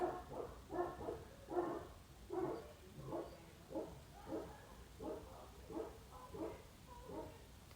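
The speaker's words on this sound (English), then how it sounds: "listen to my dogs," Dogs barking in a rapid, steady series of about a dozen close, loud barks, with occasional yips, alone without talk.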